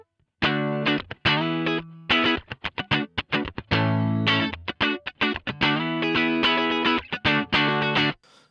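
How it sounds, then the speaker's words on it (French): An electric guitar set to a clean Fender-style tone through a Line 6 Pod Express, played as a series of loud, bright strummed and picked chords with short gaps, close and alone. "Et quand on va ouvrir la guitare, on va avoir un son typé Fender,"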